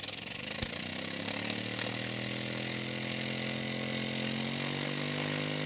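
A Liney powerplant prototype engine revving at heavy RPM, a loud, steady, buzzing mechanical drone with a sharp transient near the start, close and alone with no talk.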